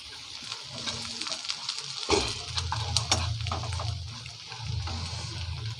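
Spoon stirring onion-garlic masala, black masala and cumin powder in a pan for stuffed bitter gourd sabji, giving a steady close scraping and soft sizzle with a few sharper clinks, no talk.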